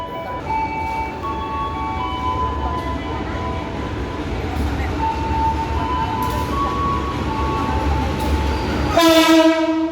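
Commuter train bound for Merak, hauled by a CC201 locomotive, arriving on track 2: a steady rumble of rolling wagons with a loud horn blast near the end, close by.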